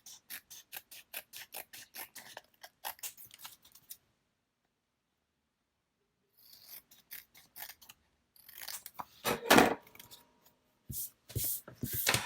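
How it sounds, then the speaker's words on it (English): Scissors snipping paper around a photo for a December Daily scrapbook page: a quick run of crisp cuts, a silent pause, then more clustered snips and rustling, close and fairly loud. "And then I'm just going to have to trim around the photo."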